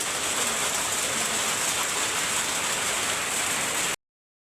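Steady, dense rain falls continuously, a loud broadband hiss of drops striking surfaces, with no voices.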